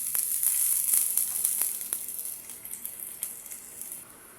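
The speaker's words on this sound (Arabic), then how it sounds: "سخنا المدر جيدا، وأضفنا الزيت ونضيف البصل ونحرك حتى يتغير لون البصل" Onions frying in hot oil in a well-heated pan, giving a steady bright hiss with scattered crackling pops that eases slightly toward the end, with no talking.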